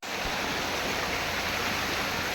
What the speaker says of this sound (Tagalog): Dito kami ngayon sa Batis.